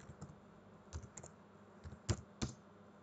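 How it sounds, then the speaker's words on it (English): Quiet, close keystrokes on a computer keyboard as a chmod command is typed into a Linux terminal, a sparse, uneven run of soft clicks with a couple of firmer taps near the end. "So we're going to type in chmod."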